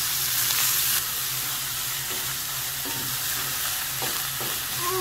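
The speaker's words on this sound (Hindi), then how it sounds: "तो अब हम इसमें अपना ये कीमा ऐड कर देते हैं। हमने इसको तब तक भूनना है जब तक इसका कलर ना चेंज हो जाए।" Minced meat (keema) frying in a pan for keema matar masala, a steady close sizzle broken by a few scraping stirs near the end, with no voices.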